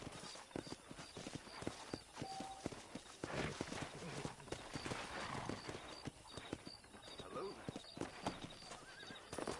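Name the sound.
horse in Red Dead Redemption video game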